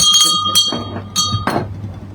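Bell struck several times in quick succession, each ring bright and close with a short decay, in a radio studio setting.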